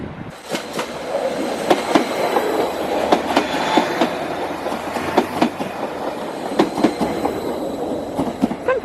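A passenger train from Sheringham rolls past nearby, its wheels beating a steady clickety-clack over the rail joints with a continuous rumbling roar, no voices.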